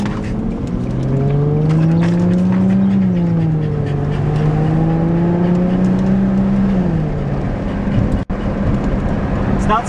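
Car accelerating hard under Menox hand controls, manual shift mode, engine note climbing steadily, dipping briefly at a shift and climbing again. Loud and close, heard from inside the car, with a talking voice at times.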